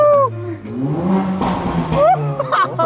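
A Mercedes-Benz CLA45 AMG with a 381 PS engine revs hard in short loud bursts close by, with excited voices over the engine.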